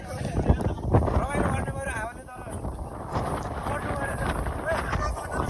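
Strong, cold wind buffets the microphone in rumbling gusts while people talk loudly nearby.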